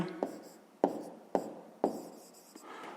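A pen writes an answer by hand on paper during a fifth-grade maths exercise, with five sharp taps as strokes begin, each trailing into a soft scratch, close and quiet.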